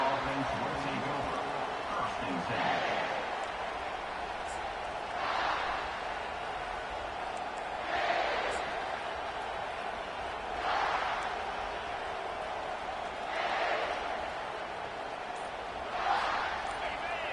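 A football stadium crowd at an A&M versus South Carolina game roars and cheers in rising waves that swell and fade every few seconds, heard beneath continuous play-by-play commentary.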